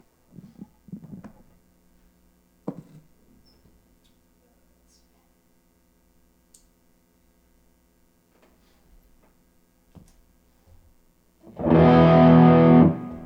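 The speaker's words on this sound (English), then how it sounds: "It's one way to sort of lower and raise the amount of distortion without turning it on or off, or reaching down and turning the knob." Distorted electric guitar run through a distortion effect with a volume pedal, near silence and faint taps giving way to a loud, dense burst of distorted tone at the end.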